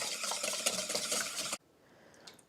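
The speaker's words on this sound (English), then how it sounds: "I'm just going to go ahead and twist the eggs a little bit." Two eggs are whisked in a bowl, giving a rapid, busy clatter of the whisk against the bowl that runs steadily for about a second and a half, then stops abruptly into near silence with one faint clink.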